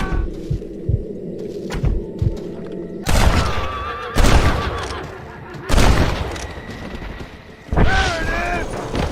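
Gunfire shootout in the Western video game Red Dead Redemption: several heavy bursts of gunshots with booming reports, one near the start and more at roughly one-second intervals, plus a horse's whinny and game voices between the volleys.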